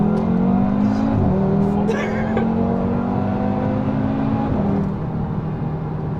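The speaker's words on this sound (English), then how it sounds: "That's more like it with the exhaust." An Audi TT RS with a Revo Stage One tune drones loudly from its exhaust under steady load, its pitch shifting abruptly twice as the engine changes revs.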